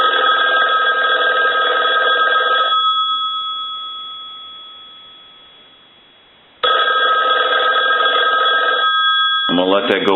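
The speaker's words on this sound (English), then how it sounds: "So we want to go ahead and ring the telephone." A Western Electric 500 rotary desk telephone's bell rings loudly during repair checks, two long bursts of ringing separated by a decaying pause, with a brief bit of speech at the very end.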